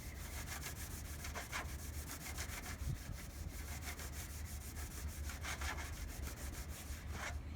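Steady rubbing and scrubbing of a cloth polishing old car paint by hand with Lukat paint cleaner, a continuous close back-and-forth friction sound with rhythmic strokes, no talking.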